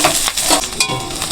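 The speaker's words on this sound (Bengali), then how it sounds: "পেঁয়াজ লঙ্কা দুটোই ভেজে নিব লাল লাল করে।" Onion and green chilli frying in oil in a wok while being stirred: brief scraping stirs over a close, crackling sizzle.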